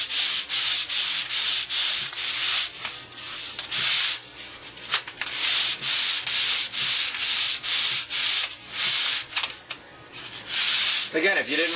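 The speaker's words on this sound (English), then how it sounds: "We have that little sanding belt glued down at the table." Sanding on a small sanding belt glued down to a shop table comes through as a rapid series of short, loud rasping strokes repeated in a steady rhythm, close up and alone.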